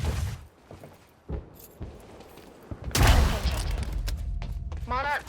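A heavy cannon fires in the video game Quantum Break, one loud booming blast around the middle that rumbles on under game sounds and a brief voice.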